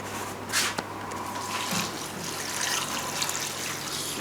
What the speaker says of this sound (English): So I'll need to be topping the water now,